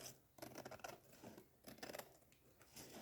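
Scissors snip off a small leftover piece of decoration while assembling a storage tower, giving a few quick close cuts in short bursts with pauses between.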